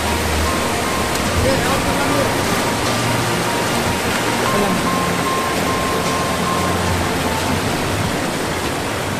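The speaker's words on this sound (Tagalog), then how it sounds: "Medyo malakas yung current ng tubig." A river's strong current rushes loudly and continuously close by at Samariñana, Brooke's Point, Palawan, a dense broadband roar with no break.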